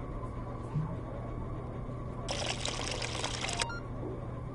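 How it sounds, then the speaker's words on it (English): A thick smoothie of peach and cherry pours into a cup in one short, noisy gush over a steady background hum, then stops abruptly. "Pour it out into a cup and then we can serve it."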